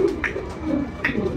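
Racing pigeons on a rooftop giving soft, throaty coos, several rolling calls close by over a little over a second, with no talking.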